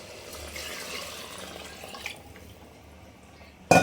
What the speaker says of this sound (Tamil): நான் அந்த தண்ணியை இந்த இதில் ஊற்றிக்கிறேன்